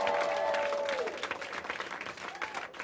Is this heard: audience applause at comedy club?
yes